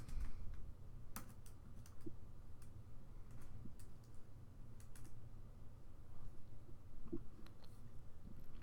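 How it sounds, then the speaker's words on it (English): Keystrokes on a computer keyboard while a book title is typed into a library search box, a quiet run of irregular clicks over a low steady background hum. "type in the book that you are looking for"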